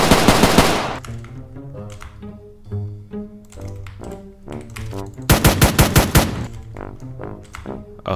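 Rapid automatic gunfire from the Roblox hood game Streetlife rattles out in loud, dense bursts, with a steady stream of shots in between and another heavy volley near the end.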